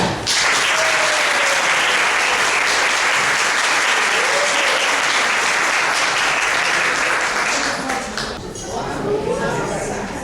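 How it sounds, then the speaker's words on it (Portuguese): Strong, loud applause and cheering for the winning elementary school team at an educational technology fair, a dense wash of clapping that tapers off near the end as voices emerge. "Salva de palmas bem forte para eles"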